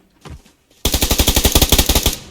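Gunfire in the PUBG Lite video game: a single distant shot, then a loud, close burst of rapid automatic fire with evenly spaced shots for over a second.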